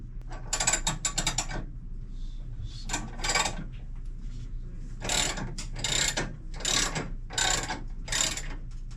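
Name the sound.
jack lowering a 1960 Harley Panhead motorcycle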